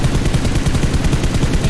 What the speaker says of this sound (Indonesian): itu sudah memberikan tembakan menuju ke batu seberang